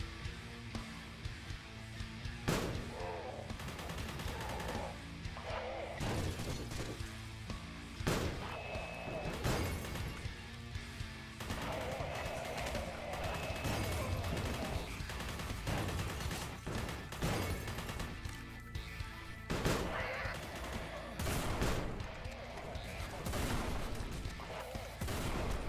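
Rapid bursts of video game gunfire in a first-person shooter, sharp repeated shots and volleys crackling through the whole stretch, loud and close, with a voice occasionally talking over the combat.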